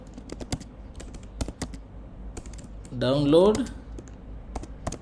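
Typing code on a computer keyboard, a run of quick close key clicks in an uneven rhythm, with a short spoken phrase partway through.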